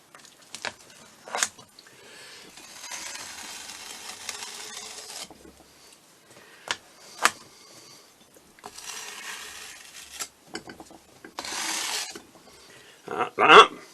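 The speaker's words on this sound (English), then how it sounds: "Get my scraper. And then just go straight over the top like that and take all the excess off." A cake scraper is drawn over a stencil to clear away excess royal icing, giving several separate raspy scraping strokes of a few seconds each with short quiet gaps, close and moderately loud, with no talking.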